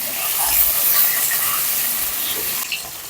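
Potato pieces fry in hot oil with cardamom, cloves, cinnamon, dried red chilli, bay leaf and panch phoron, giving a steady, close, bright sizzling hiss that continues without a break.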